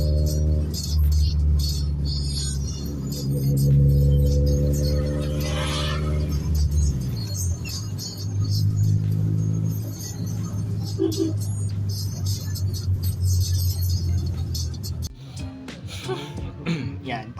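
Mitsubishi Lancer GSR fitted with a 24-inch stinger exhaust tip revs up and down close by, its rumbling tone rising and falling over several seconds before settling into a rougher idle, with a voice speaking briefly.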